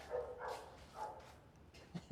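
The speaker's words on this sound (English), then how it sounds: "And the dog's locked in the house now. She's not happy. You hear her?" A dog locked inside a house on a rainy, miserable day gives several muffled whines and short yelps. The sounds come in separate bursts with gaps between them, and a couple of sharper barks arrive near the end, all heard from outside at moderate distance.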